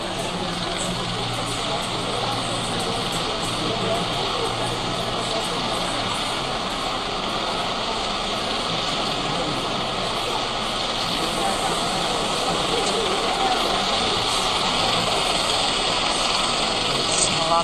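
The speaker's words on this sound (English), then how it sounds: "And here it comes in now, this JetBlue flight 292 with that front nose gear pointed sideways." A JetBlue Airbus A320 landing at LAX with its nose gear stuck sideways, a steady loud jet roar sustained throughout with a voice commentating over it.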